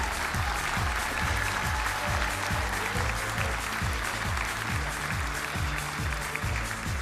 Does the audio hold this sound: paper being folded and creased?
no